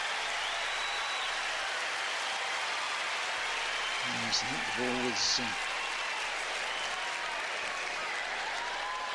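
The crowd at a 2003 US Open tennis semifinal between Nalbandian and Roddick claps in a steady wash of applause, with a commentator talking over it.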